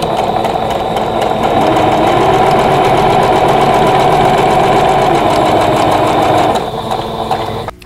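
A sewing machine stitches a vintage quilt block with 50 weight thread at a 2.0 stitch length, a steady close mechanical whir with rapid needle clatter running continuously and easing off near the end.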